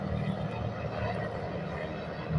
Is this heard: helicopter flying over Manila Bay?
yes